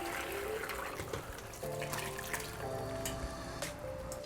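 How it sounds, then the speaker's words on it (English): Homemade dashi stock for miso soup strained through a sieve, a steady close pour and trickle of liquid with small clinks from the utensils, no talking. "Let's just strain it here."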